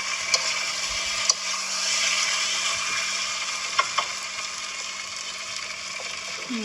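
Pickled mustard greens stir-fried in a pan, giving a steady broadband sizzle with a few sharp clicks of the utensil against the pan, close and moderately loud, with no one talking.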